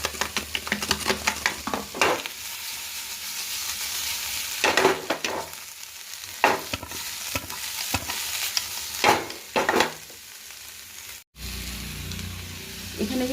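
Sliced onions and rock salt fry in a pan as the base for a chicken sauté, giving a constant close sizzle broken by repeated loud scraping strokes of stirring.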